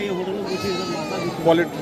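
Wavering goat bleats from meat goats at a busy rural livestock market rise over a background of voices, with one louder bleat near the end.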